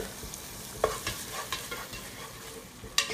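Butter sizzles steadily in a pan over high heat while cooking a Honduran pollo guisado, a close, constant hiss broken by a few sharp pops and clicks.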